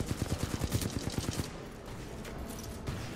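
Rapid bursts of gunfire from the video game Titanfall, a fast rhythmic volley up close for about a second and a half, then fading into a dull rumbling game background.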